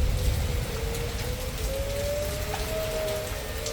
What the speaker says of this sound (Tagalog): Tapos umuulan ng malakas.